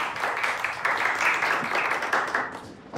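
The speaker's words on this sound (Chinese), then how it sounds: "大家掌声鼓励一下。" Office staff applaud together at a meeting, a steady wash of clapping filling the room for a few seconds, moderately loud and even.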